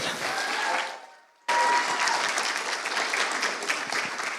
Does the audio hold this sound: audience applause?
yes